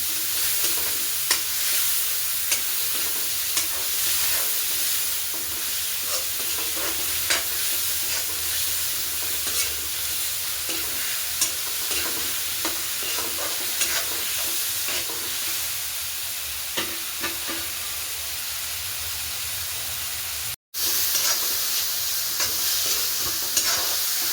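Masala sautéing for a besan egg curry, a steady close sizzle and hiss with frequent scraping stir clicks running throughout, briefly cut by a short gap near the end.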